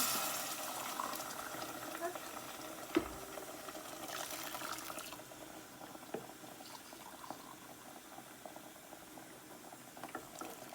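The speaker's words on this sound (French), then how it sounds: "vous allez rajouter de l'eau" Hot water poured into a pan of fried rice and chorizo, a soft continuous splashing and bubbling that stays steady and fairly faint throughout, with a brief clatter near the start.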